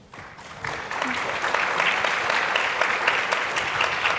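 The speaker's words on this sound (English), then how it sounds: "I love that you said a thing that actually got them to participate and clap" Audience at a tech panel discussion breaking into applause, swelling from a faint start into steady, moderately distant clapping that holds through to the end.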